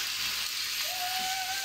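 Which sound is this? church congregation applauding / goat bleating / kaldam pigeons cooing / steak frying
steak frying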